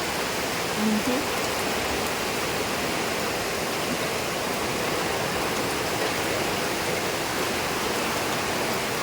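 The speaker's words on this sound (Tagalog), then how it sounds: "Sobra ng lakas ng ulan." Heavy rain pours down on a walk to a farm in the rural Philippines, a constant, dense hiss, loud and even throughout with no pauses.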